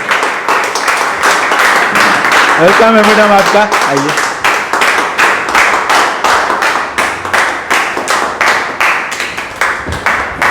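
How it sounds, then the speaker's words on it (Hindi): A crowd claps loudly and continuously while someone speaks over the applause. "जोरदार तालियों से वेलकम करते हैं।"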